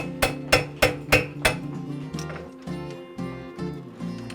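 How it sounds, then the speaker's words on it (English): A farrier pounds a horseshoe on an anvil: five sharp, ringing hammer blows, then lighter, duller taps continuing at a steady pace, close and clear. "You're working all parts of the anvil there."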